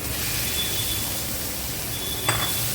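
Eggs go into a pan of oily, well-fried masala, giving a steady broadband sizzle with a brief clink of a utensil near the end, close and continuous with no voices.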